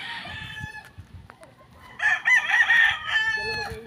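Chickens cluck softly on a farm before a rooster lets out a loud, drawn-out crow lasting about a second and a half, then the clucking resumes nearby.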